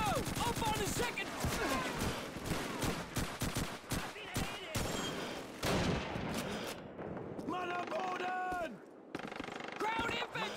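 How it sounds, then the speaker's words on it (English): MG-42 machine gun fire in the World War II shooter Call of Duty 2: loud, rapid, tearing bursts of automatic fire mixed with other gunfire for several seconds, then shouted voices over quieter battle noise. "Machine gun MG-42!"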